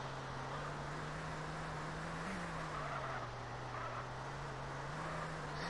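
Car driving in the CRMP video game, a steady engine drone holding a low pitch with slight rises and dips, continuous and moderately loud, no talking.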